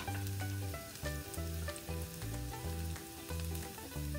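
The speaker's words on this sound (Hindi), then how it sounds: "देखिए, लहसुन फ्राई हो गया है।" Garlic frying in a pan for veg fried rice, a steady close sizzle with occasional stirring clicks and scrapes, no voices.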